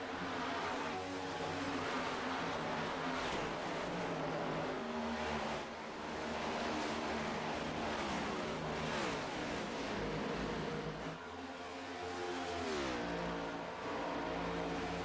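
Race cars lapping an oval at Charlotte in an iRacing stock car race, engines droning and revving continuously with rising and falling pitch as cars pass and shift, a loud, steady pack sound throughout.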